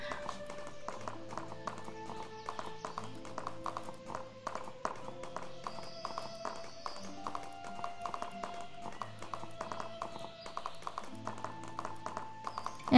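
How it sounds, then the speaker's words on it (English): Horse hooves clip-clop in a quick, steady galloping rhythm in the video game Animallica, moderately quiet, with faint game music tones underneath. "let's ride this horse"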